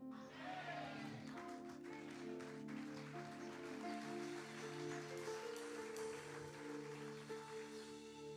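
Church congregation applauding during a Spanish-language sermon, a steady faint wash of clapping that lasts throughout.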